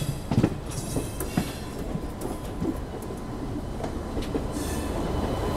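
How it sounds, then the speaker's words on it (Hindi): Howrah New Delhi Rajdhani Express pulling into a station platform, giving a steady rolling rumble with rhythmic wheel clicks and faint high squeals, moderately loud and continuous with no speech. "ये आ रही है सामने से हमारी राजधानी एक्सप्रेस, देखिए हावड़ा नई दिल्ली राजधानी एक्सप्रेस जो कि यार से निकल के प्लेटफॉर्म पे लगने जा रही है।"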